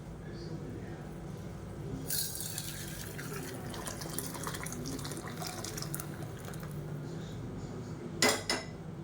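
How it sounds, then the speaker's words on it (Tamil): Drumstick rasam poured from a pot into a serving vessel in a home kitchen, giving a steady close liquid splash with light clinks of metal utensils and a sharper clatter near the end. "இப்போ இந்த ரசத்தை எடுத்து அப்படியே நம்ம இந்த பாத்திரத்தில் ஊற்றிடலாம்."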